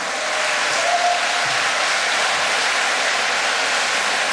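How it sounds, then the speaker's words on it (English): Steady applause from a crowd, a dense wash of clapping that holds at an even, loud level throughout with no talking. "give them a round of applause"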